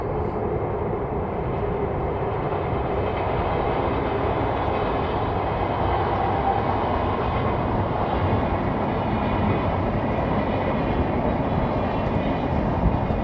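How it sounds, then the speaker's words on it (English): A continuous low rumble of a train rolling past, steady and fairly loud throughout with no voices. "Hello, train."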